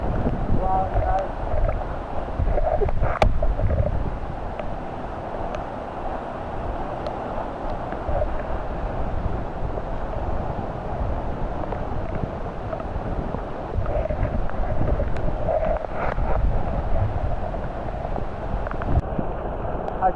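A waterfall in Japan gives off a constant broad roar of rushing water, loud and close, with gusty wind buffeting the microphone and no voices heard.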